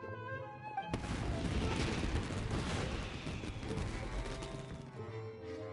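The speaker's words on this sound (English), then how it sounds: "It sounded like fireworks." Fireworks in the video game Genshin Impact burst in a dense, booming barrage with crackling explosions that fill the scene over a tonal game soundtrack.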